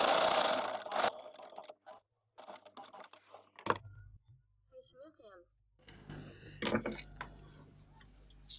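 A sewing machine stitches in a plain zipper in short bursts of rapid mechanical whirring separated by pauses, with a voice talking intermittently between runs.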